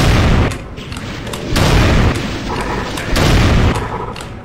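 Loud gunfire booms in Doom arrive in three heavy bursts roughly a second and a half apart, each with a sharp crack and rolling low-end rumble that fades between shots.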